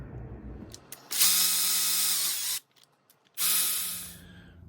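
Power ratchet or drill driving alternator bracket bolts on a Jeep Wrangler JK 3.6L, two loud sustained whirring bursts separated by a short pause, close by with no talk.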